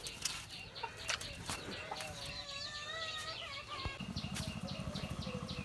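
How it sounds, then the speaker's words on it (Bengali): A chicken clucks and squawks close by in rapid, uneven calls, with wing flaps and rustling between them, ending in a run of quick clucks. "হাই মুরগি পাখি"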